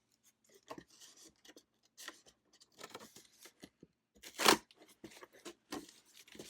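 Crinkling and rustling of a yarn package being handled and torn open, with scattered scissor snips and crunches and one louder tearing rip midway, close by.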